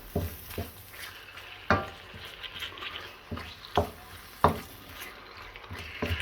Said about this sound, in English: Let's give that a quick stir.